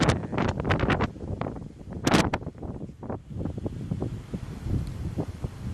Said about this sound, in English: I'm not even sure if you can hear me over this wind.